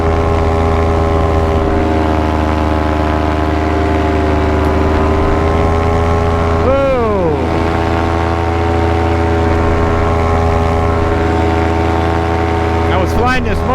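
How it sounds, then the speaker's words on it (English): Small electric or glow model airplane motor running steadily through flight, a loud continuous tonal drone with harmonics that sweeps in pitch as the plane passes, with a brief pitch swoop midway and near the end. "Flying this motor at Kyle O's with not much for issues"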